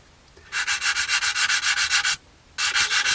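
Close, quick back-and-forth rasping as a coarse sanding sponge levels cannon stubs on a 1/48 scale Tamiya Beaufighter model kit, a steady run of strokes, a short pause, then more scrubbing.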